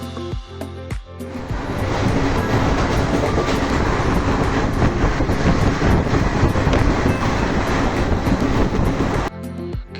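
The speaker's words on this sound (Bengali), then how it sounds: "এখানে মোটামুটি 5 মিনিট হল্ট করার পর আবার ট্রেনটি ছাড়বে।" Passenger train on a Kolkata to Kathgodam route running on rails, with a steady loud rumble and rolling clatter from the carriages. A few sharp clicks come first, then the noise swells and holds before easing near the end.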